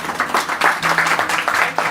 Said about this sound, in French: Je suis émue quand on applaudit Kevin